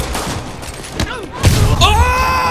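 Bursts of gunfire in the Marvel's Spider-Man video game, rapid shots and thumps mixed with game effects and music, loud and continuous alongside a talking voice.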